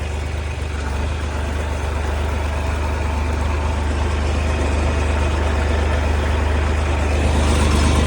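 Kentavr small tractor pulling a 1x25 plough, its diesel engine a steady, close, loud low rumble that rises slightly toward the end, with no talk over it.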